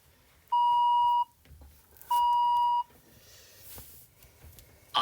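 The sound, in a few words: two bleeps after an exam extract's second playing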